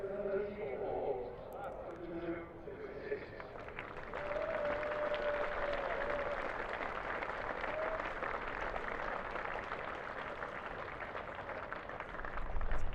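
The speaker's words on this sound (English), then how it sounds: "we'll just leave you to hear the round of applause that Beddingham's about to get again." A cricket crowd at a county championship match between Durham and Somerset applauds a batsman, a broad, steady clapping that builds and continues, with faint commentary voices at the start.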